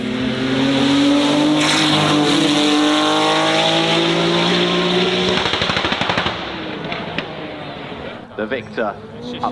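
Aston Martin Victor, a car recalling late-1970s Aston Martin design, driving up the hill at the Festival of Speed, loud engine note with rising revs and gear changes, then a rapid crackling burble as it passes and fades, with a voice talking over it.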